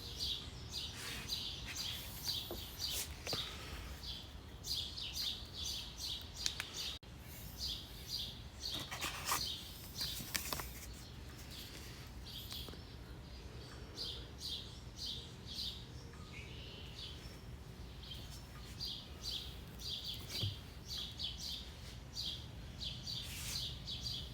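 Birdsong fills an outdoor background with steady, repeated high chirps and tweets from several birds, moderately distant and continuous, with occasional soft knocks and rustles but no talking.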